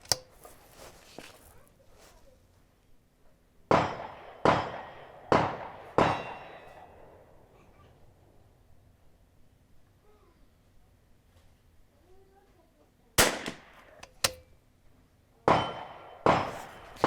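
A Vudoo Gun Works V-22 rifle fires CCI Standard Plus rimfire rounds at a long-range match: eight sharp, close cracks, in two quick bursts of four separated by a quiet pause.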